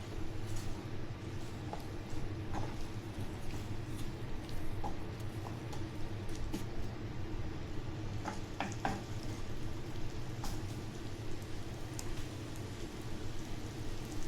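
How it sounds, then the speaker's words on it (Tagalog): Mushroom, potato and carrot pieces sauté in a pan with a steady, soft sizzle and occasional stirring clicks, moderately quiet and continuous. "So saute lang natin yung ating mushroom, potato, and ang ating carrots."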